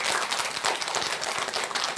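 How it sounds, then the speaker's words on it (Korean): A lecture hall audience at a Buddhist teaching session claps steadily, a dense wash of many hands close and continuous, with no talking over it. "박수 쳐주세요."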